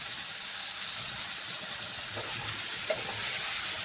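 Mashed pointed gourd going into a hot pan, giving a steady broadband sizzle and hiss with a couple of soft spoon or pan knocks near the end; close and moderately loud, no voices.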